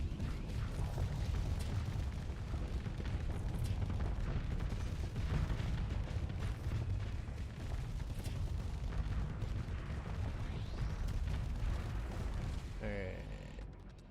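Weapons fire in a Starsector space battle, a dense, continuous barrage of booms and rumbling blasts that keeps going for the whole stretch at steady loudness and thins out only near the end.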